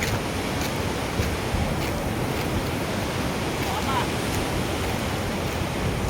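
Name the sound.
water pouring through open dam gates at Himayat Sagar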